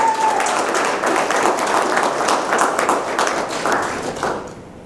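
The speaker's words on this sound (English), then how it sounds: "Let's give it a applause." A summit audience breaks into loud, sustained applause. Dense clapping fills the room and fades out near the end.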